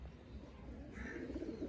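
A pigeon gives a soft, low coo, faint and close, against a quiet background.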